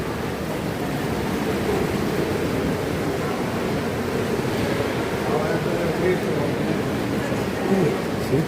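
Thermal mineral water churns in a jacuzzi at a spa in Berehove, a dense continuous bubbling and rushing wash that stays loud and steady throughout, with no clear talk over it.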